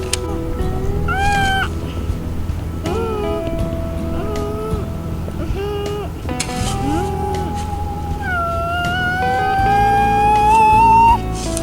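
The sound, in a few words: child imitating toy truck noises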